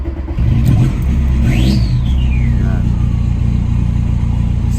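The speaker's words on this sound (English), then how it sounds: "we're just gonna go for a cold start" A VW Lupo SDi diesel engine cold starts after sitting for a week, catching quickly and settling into a loud, steady clattering rumble close by, with a brief whine in the first two seconds.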